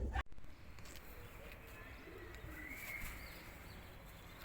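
Fancy costume pigeons coo softly and steadily at moderate distance, with low murmuring over a faint background hum and a brief knock at the start.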